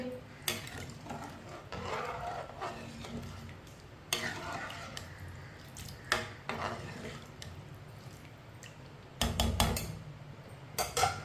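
Rice and water being stirred together in a cooking pot for aloo pulao, with intermittent scraping and clinking of a spoon against the pot, close and fairly clear, with no talk.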